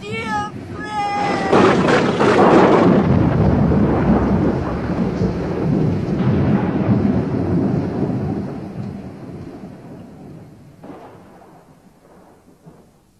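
Rumbling thunder with steady rain in a radio drama storm effect, starting with a loud crash and rolling on for several seconds before fading; a character cries out over the start.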